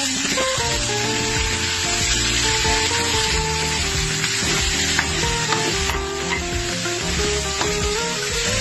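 Pork menudo with liver frying and sizzling in a pan after soy sauce goes in, a dense steady hiss with clattering stirring and busy tonal background sounds throughout, no one talking.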